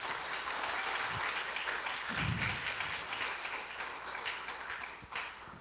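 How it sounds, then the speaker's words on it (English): A church congregation keeps up dense, steady hand clapping for several seconds, a loud, even wash of applause with a few louder individual claps standing out. "Can we give them a hand clap of praise?"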